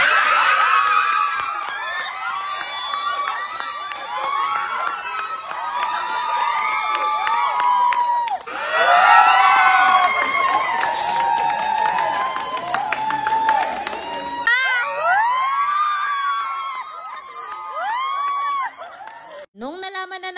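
Loud crowd near election precincts as the vote count ends, a dense, sustained mass of cheering, shouting and excited voices, with children's cries, laughter and bursts of clapping throughout.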